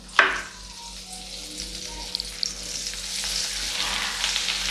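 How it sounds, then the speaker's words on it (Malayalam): Butter hits hot sunflower oil in a frying pan, starting with a sharp burst, then settling into a steady crackling sizzle that holds for several seconds, with faint spatter pops. "ഇനി ഇതിലേക്ക് ഒരു 20-25 ഗ്രാം ബട്ടർ ഇട്ട് കൊടുക്കുകയാണ്."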